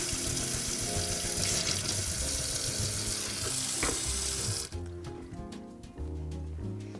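Steady rushing water pours out through a perforated lid and drains for several seconds as pasta salad ingredients are strained, then abruptly stops, leaving faint drips and light clatter.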